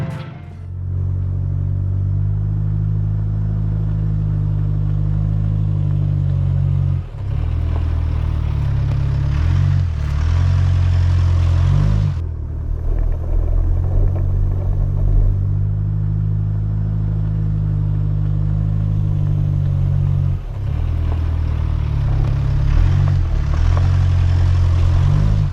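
A 4WD vehicle crawls along tracks in Wingello State Forest, and a loud, steady engine drone fills the cabin, dipping and surging several times as the vehicle bumps and shifts over the rough ground.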